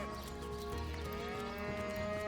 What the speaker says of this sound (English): Why are there cow sounds just everywhere?